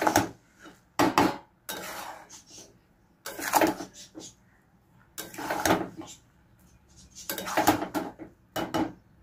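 A pot of sweetened polao is covered with its lid, bringing several sharp metal clanks and scrapes in bursts, with quiet gaps between them.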